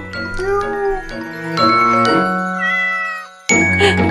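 Playful cat-like meows made by a person imitating a cat, several rising and falling mewing calls over a tinkling, bell-like musical jingle, fairly loud and close.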